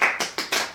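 Brief clapping from a small audience, a few sharp bursts of applause up close, with no talking.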